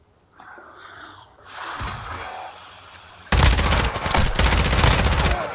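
Gunfire in Call of Duty multiplayer, a sustained loud burst of rapid automatic shots filling the second half, preceded by quieter game sounds and faint voices.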